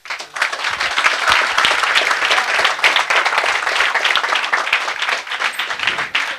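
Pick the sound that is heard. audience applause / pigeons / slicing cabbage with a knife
audience applause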